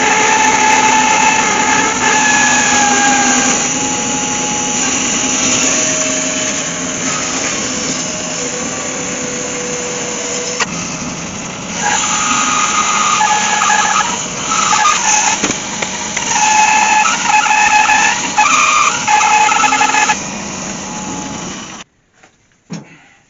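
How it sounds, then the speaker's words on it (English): Bandsaw cutting a circle from figured walnut on a pivot pin, a loud continuous whine and hum with the pitch and grit shifting as the blade bites, running close for about twenty seconds before spinning down. "I'll start the bandsaw up. That piece of wood will pivot on that pin, and that will cut me a perfect circle"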